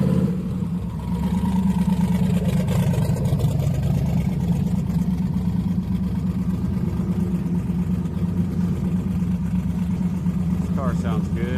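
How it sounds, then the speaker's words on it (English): A car engine idles and hums steadily at Houston Raceway Park's drag strip on a Friday street night, a loud continuous low drone filling the whole stretch. "Car sounds good"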